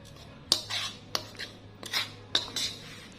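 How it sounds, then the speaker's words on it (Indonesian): A spoon stirs cake batter for an old-fashioned coconut-milk cake in a bowl, giving four or five sharp clinks and scrapes against the bowl in an uneven rhythm, close and clear. "ini diaduk-aduk dulu"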